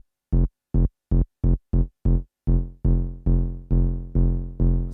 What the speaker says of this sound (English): so with the release, it sounds like this.